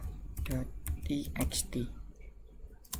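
Keys struck on a computer keyboard, a short run of distinct clicky taps followed by a few quieter ones, close and clear, with a voice talking over the typing.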